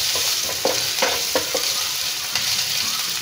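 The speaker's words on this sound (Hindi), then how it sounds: "इसे डाल देंगे, इसे दोनों को मिक्स कर लेंगे अच्छे से।" Chopped onion, green onion and green chillies being stirred together in a pan, with a steady sizzling hiss and a few soft spoon scrapes, close and fairly loud.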